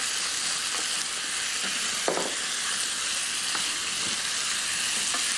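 Meat frying over high heat gives a loud, dense, steady hiss of sizzling. Scattered clinks of utensils sound now and then throughout.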